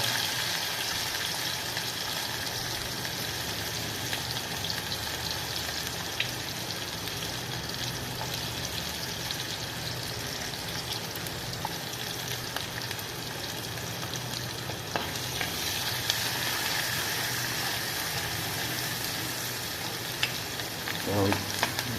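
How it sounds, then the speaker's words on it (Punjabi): Onions fry in a hot pan for a Punjabi bottle gourd and ridge gourd curry, a steady close sizzle with occasional stirring scrapes running continuously without talk. "ਆਪਾਂ ਪਹਿਲਾਂ ਥੋੜਾ ਜਿਹਾ ਪਿਆਜ਼ ਭੁੰਨ ਲੈਣੇ ਆ"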